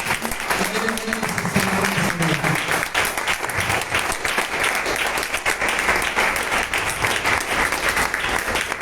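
Church congregation breaks into strong, sustained applause, a dense, even roar of clapping that fills the whole stretch, with a voice briefly audible at the start.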